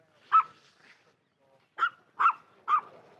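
A dog barking while someone plays fetch with a stick, one sharp bark, a pause, then three quick barks in a row, fairly close with no talk.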